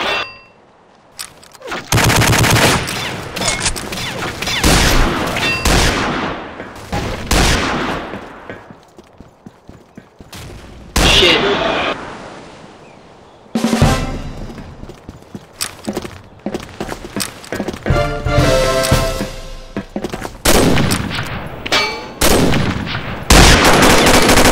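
Loud, dense video game gunfire in Combat Arms, with repeated bursts of automatic shots and single cracks running nearly continuously, broken by short pauses.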